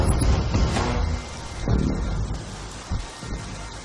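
Steady rain pours outdoors in a dense, loud wash, with heavier gusts and rustling swells rising and falling throughout, no voices.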